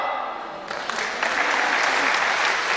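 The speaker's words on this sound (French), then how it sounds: "Applaudissez le général Pipal" An audience at a public talk on French defence and NATO bursts into applause for a general, dense clapping that swells and holds loud to the end.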